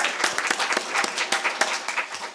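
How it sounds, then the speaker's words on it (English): Applause from an audience at a site inauguration event, steady dense clapping throughout the short stretch without any voices. "So just a round of applause."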